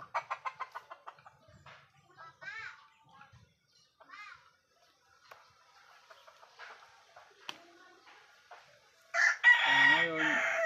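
Roosters and chickens crow and cluck around a Filipino gamefowl breeding yard, with a series of short repeated calls at the start, scattered clucks in between and a loud, close crow at the end.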